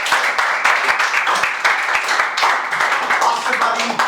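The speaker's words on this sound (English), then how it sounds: "Clap for scoring one" A classroom of students claps together during a class leader election, a dense close burst of many hands with faint chatter mixed in.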